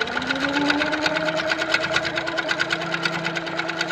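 A sit-down longarm quilting machine stitching thread painting in manual mode runs steadily, its rapid needle strokes forming an even mechanical chatter close by, with no talk over it.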